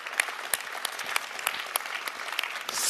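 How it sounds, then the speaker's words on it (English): An audience at a leadership summit lecture claps in sustained applause, a dense close wash of many hands with sharper individual claps standing out. "Big applause."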